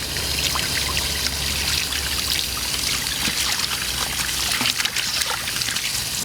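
Green and red chili peppers are washed under running water outdoors beneath a tree, a steady close splashing and trickling stream that carries on without a break.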